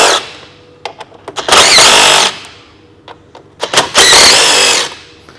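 Power tool removes bolts from a Kia Sedona engine bay during engine removal, in two loud whirring bursts of a couple of seconds each, with scattered clicks and clanks of tool handling between them.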